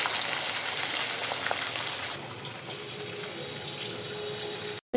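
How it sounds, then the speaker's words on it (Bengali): Pabda fish frying in hot oil in a wok, a steady loud broadband hiss and crackle that drops slightly in level partway through, then cuts off briefly near the end. "এখন আমি পাবদা মাছগুলো লাল লাল করে ভেজে নেব।"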